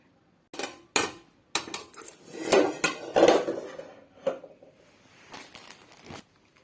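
Ceramic bowls and plates clink and clatter as they are handled while serving kuay jab noodle soup, a series of sharp knocks and scrapes close by, with no talking.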